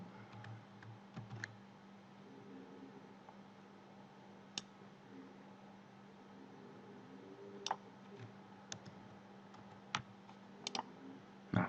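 Computer keyboard keys are pressed in sparse, faint clicks, a few isolated taps scattered over a low steady hum, with no talking.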